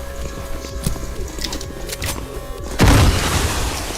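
Gunfire in a video game, a sharp burst of loud shots near the end of the clip with booming impacts over quieter game ambience and faint earlier clicks.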